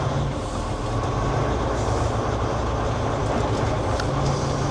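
A vehicle named Dennis drives along with a steady, loud rumbling road and engine drone heard from inside, constant throughout with faint rattles; no voices.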